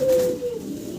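A hen Andalusian-coloured pigeon held in the hand gives a single close, low throaty coo that fades out over about half a second.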